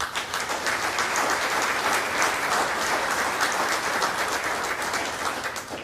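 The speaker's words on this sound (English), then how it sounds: "let's give our emergency management team a round of applause, please" A Rotary Club audience at a 9/11 memorial plaque presentation gives steady, dense applause for an emergency management team, continuous clapping that holds at an even level throughout with no speech.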